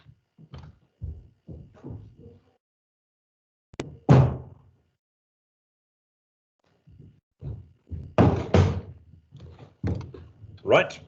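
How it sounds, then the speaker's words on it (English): A door being closed indoors in a lecture setting, one sharp thud standing out between scattered bumps and handling noises, with someone talking at the start and end. "just give me a second here while I close the door."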